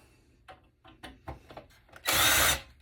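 Power drill backing screws out of an HP computer case during scrapping, with short whirring bursts and scraping handling noises before one louder, sustained half-second drill run near the end. It is close and there is no talk.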